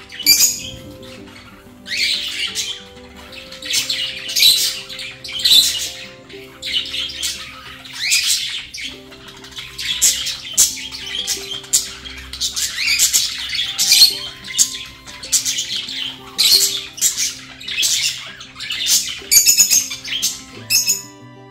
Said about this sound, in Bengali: পাখিদের এই কিচিরমিচিরগুলো শুনতে কিন্তু আমার ভীষণই ভালো লাগে